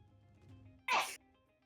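A single sharp sneeze from a person, short and fairly loud, breaking through a quiet background.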